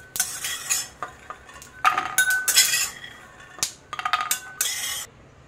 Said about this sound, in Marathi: आता मी काढून घेत आहे डिश मध्ये।